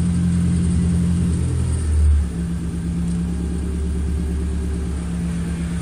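A car engine sits on a 2-step launch rev limiter, a droning held rev with rapid pulsing stutter, briefly swelling louder near the middle before settling back to a steady buzzing hold.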